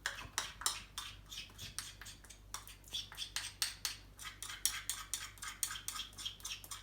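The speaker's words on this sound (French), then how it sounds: "Je délaye encore une fois la levure dans l'eau chaude." Yeast is stirred into warm water in a bowl, a rapid, steady series of spoon clinks and scrapes against the bowl's side, close and fairly quiet, repeating in a quick regular rhythm.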